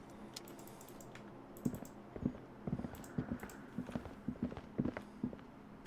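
Footsteps in the video game Disco Elysium tap along as a steady run of light, crisp clicks on a hard floor, fairly close and unhurried, with no voices over them.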